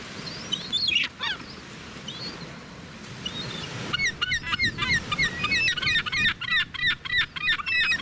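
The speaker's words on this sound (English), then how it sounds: "Let's make the seagulls happy." Seagulls calling near a fishing spot at Montauk as fresh fish are tossed to them, a flurry of sharp, repeated squawks building into a dense, continuous chorus in the second half, with a few scattered cries before.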